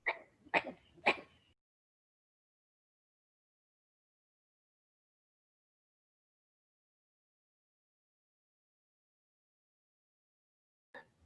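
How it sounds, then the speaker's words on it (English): A cat sneezes three times in quick succession, close and sharp, then a long silence before one more short sneeze at the end. "my cat is like sneezing over here"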